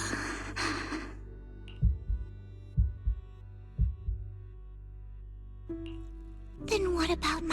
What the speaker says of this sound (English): Then what about my racing heartbeat?